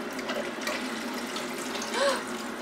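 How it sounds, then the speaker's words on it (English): A steady trickle of water pouring into a coffee machine's reservoir, soft and close, with a faint gurgle near the end. "Okay, so this is where we add the water."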